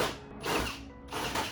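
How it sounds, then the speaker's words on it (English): A power drill running in reverse, drilling holes in a car body panel on a Honda CR-Z: two short, loud whirring bursts with a brief pause between them, close up. "So reverse drilling it."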